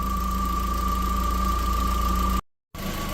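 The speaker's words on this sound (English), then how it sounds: "We've got the car running, as you can hear" Audi TT Mk1 engine idling after start-up, a steady close, loud low rumble with an even mechanical pulse and a constant whine, briefly cut to silence before it resumes.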